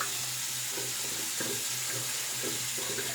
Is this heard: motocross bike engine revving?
no